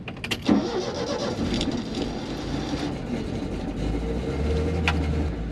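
A car engine cranks and turns over but fails to start, struggling to catch, with a steady low rumble building underneath and a few sharp clanks near the start, during a road trip in the United Kingdom.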